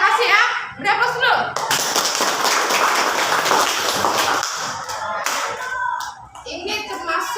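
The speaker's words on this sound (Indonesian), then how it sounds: "Beri aplaus dulu" Classroom audience claps after a student's answer, a burst of dense applause lasting several seconds, with people speaking before and after it.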